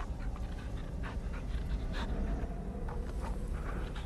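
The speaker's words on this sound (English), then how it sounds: "you rescued a tamed wolf" A tamed wolf in a survival video game pants in quick rhythmic breaths close by, over a low constant rumble of background wind.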